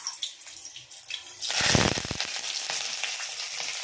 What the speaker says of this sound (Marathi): तडका बसलाय चांगला